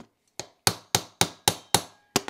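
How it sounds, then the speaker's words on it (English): A hammer drives a pin through a rifle bolt. Seven sharp metallic knocks land close and loud at a steady, deliberate pace, each ringing briefly before the next, with no talk. "I'm going to use my trusty hammer. And I'm going to go ahead and knock that pin through there."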